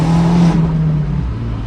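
An Abarth's MultiAir petrol engine revs hard with the roof down, a loud, close, rising growl with a strong steady tone that eases off in the final half second. No one speaks.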